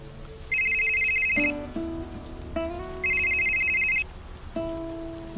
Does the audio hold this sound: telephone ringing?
yes